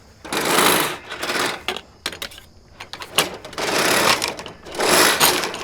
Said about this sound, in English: I'm going to start the seed cutter in the line and then utilize the manual mode on this machine to start